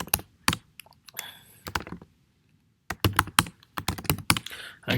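Quick bursts of clicking keystrokes on a computer keyboard come in uneven clusters with short pauses between them, close and moderately loud.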